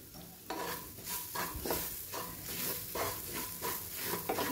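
Kachori filling with turmeric fries quietly in a pan while a spoon scrapes and stirs in a regular rhythm over a soft, continuous sizzle.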